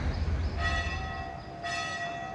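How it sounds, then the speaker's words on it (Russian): Church bells ring out over a street in Las Palmas, Gran Canaria, their tones sounding repeatedly from a distance. Faint low street rumble sits beneath them. "Отовсюду звон колоколов."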